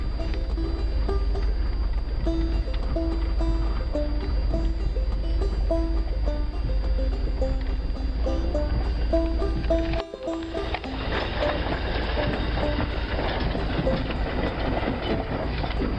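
An old trailer being towed bounces and rattles over the road, a continuous loud clattering with rhythmic knocks and a steady low rumble, briefly dipping before the rattling resumes.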